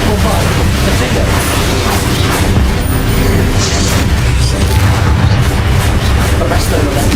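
Loud, dense rumbling booms and blasts from magic explosion spells such as Bombardo being cast in the video game Hogwarts Legacy, continuous heavy impact noise filling the whole stretch with a faint voice underneath.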